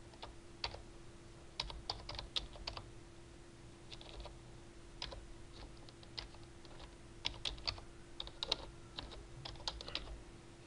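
Quiet, close keystrokes on a computer keyboard tap in irregular bursts and short runs, with brief pauses between them, as a password is entered over a faint steady background hum.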